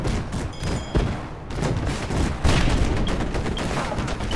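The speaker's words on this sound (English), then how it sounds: "The Gatling guns. These are side cannons built inside." Rapid Gatling gun fire from a steampunk airship in a 2D video game, a dense, continuous rattle of shots with heavy booming thuds, loud and sustained without pause.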